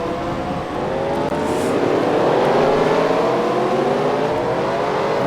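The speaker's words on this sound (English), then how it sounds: "As you'll see the rest of the cars pulling off of pit road." Race cars in a racing video game pull off pit road at Kansas, their engines rising together into a loud layered whine as they accelerate.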